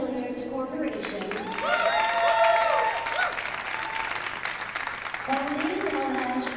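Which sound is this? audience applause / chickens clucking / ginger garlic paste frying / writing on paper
audience applause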